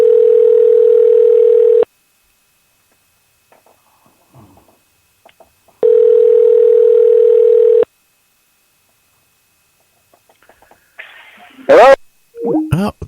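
Two long steady ringback tones, each about two seconds, separated by silence, followed by faint handling noise and a brief burst of voice at the end.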